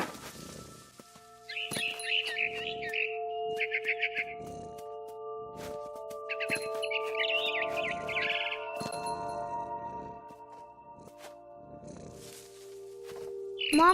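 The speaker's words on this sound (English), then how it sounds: "Then I heard chirping outside my window" Barn swallow chirping in the video game What Remains of Edith Finch: short, bright twitter bursts recur every few seconds against a quiet held musical tone and sparse soft clicks.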